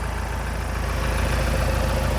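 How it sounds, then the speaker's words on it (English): A Ford Transit van's engine idles up close, a loud, steady, low rumble with an even, rapid pulsing throb and no talking over it. "So as this engine continues to run"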